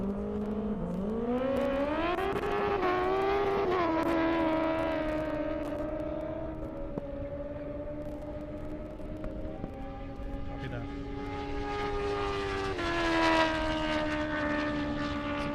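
A Kawasaki ZX14R drag bike with its swingarm extended all the way back screams past on a half-mile airport drag strip, its engine whine climbing and then holding high as it passes. An announcer talks over it.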